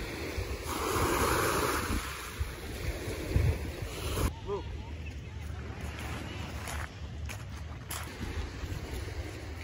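Ocean surf rolls onto an Alaska beach with the tide coming in, a broad roaring wash swelling and easing under heavy wind buffeting on the microphone.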